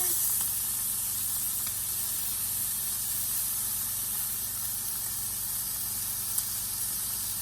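Bourbon bacon BBQ chicken kebabs sizzle steadily on a grill after being flipped, a continuous close hiss with faint clicks and a low background hum, no talking.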